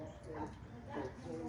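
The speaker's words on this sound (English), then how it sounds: "Dogs are going crazy" Dogs barking and yipping in Slaughterville, Oklahoma, a few excited barks and whimpers rising over a steady background, with people talking at the same time.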